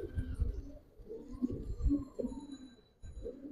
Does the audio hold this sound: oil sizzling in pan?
no